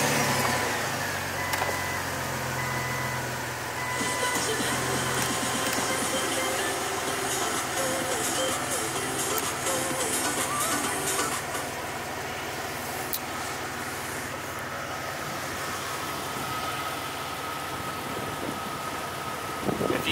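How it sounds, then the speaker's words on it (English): A lifted Jeep Cherokee Sport XJ engine runs close by with a steady, broad rumble that holds throughout at an even idle, with some scraping and handling noises layered on top. "I'm going to actually start the vehicle up and roll the windows down."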